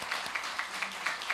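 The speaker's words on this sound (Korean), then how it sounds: "우리 환영의 박수" Church congregation applauding to welcome a newly married couple during a Sunday service, moderate-sized crowd clapping steadily at a soft level, with a few louder claps standing out.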